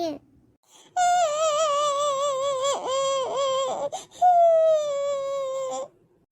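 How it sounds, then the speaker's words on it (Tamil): An infant cries close by in long, loud, high-pitched wails that break briefly in the middle and then resume, with no other voices over the crying. "அந்த குழந்தை அழுதுகிட்டே இருக்கு பாரு"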